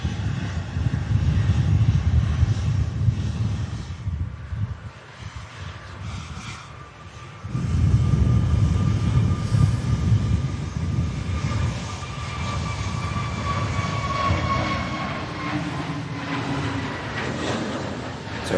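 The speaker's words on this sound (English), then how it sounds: "EasyJet's on the move, an Airbus A320 heading off to Gran Canaria." An easyJet Airbus A320neo takes off from Manchester Airport in stormy conditions, a loud, steady jet engine roar that drops briefly, then swells again and holds, with a rising whine, alone without talk.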